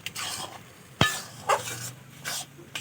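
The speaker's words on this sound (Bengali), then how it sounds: "ফের আবার এক বাটি দুধ দিয়ে আবার নেড়ে নিচ্ছি" Semolina cooking with milk is stirred in a pan with a spoon, producing soft scraping strokes and one sharp clank against the metal.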